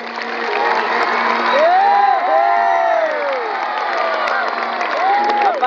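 An audience at an Acehnese comedy show cheers and shouts in a dense crowd roar, with whoops and high shouted voices rising above it, loud and continuous throughout.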